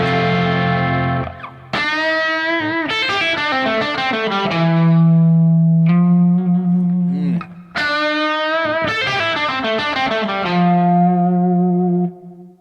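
An electric guitar run through distortion and chorus effects plays sustained bending lead notes and phrases over a chord progression, loud and close, with reverb tails and a couple of brief pauses.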